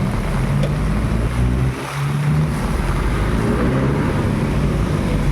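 Heavy afternoon rain pours on a church in Parañaque, with water leaking and dripping inside. The downpour is a dense, steady roar that dips briefly around the second mark and then returns at full strength.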